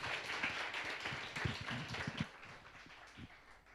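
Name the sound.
applause welcoming Elder Lina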